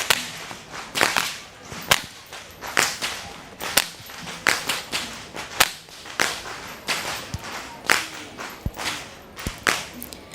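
Whips crack loudly in an irregular rhythm, several per second at times, during the Kandy Esala Perahera procession in Sri Lanka, with crowd noise and clapping in the background.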